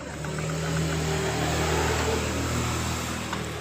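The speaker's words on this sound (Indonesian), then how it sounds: "suara kasar di bagian stangnya ini. Kita dengar lebih jelas. Kocak seperti ini ya teman-teman." A Yamaha Mio Sporty scooter engine running with a rough knock from a worn connecting rod, a steady close mechanical drone with a rattling undertone and no speech.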